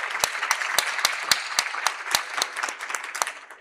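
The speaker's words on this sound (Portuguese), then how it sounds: "Uma salva de palmas para o Billy, pessoal." Audience applause at a Brazilian customer-experience talk, a steady wash of many hands clapping with sharp individual claps standing out, moderately loud and sustained with no talk over it.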